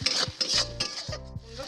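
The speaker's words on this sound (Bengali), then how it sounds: "যতক্ষণ না তেলটা ছাড়বে ততক্ষণ কিন্তু মশলাটা কষিয়ে নেবো" Spice paste with a pinch of Kashmiri chilli powder scraped and stirred in an oily pan for a dried-fish mash, close-up rasping strokes in quick bursts over a soft sizzle.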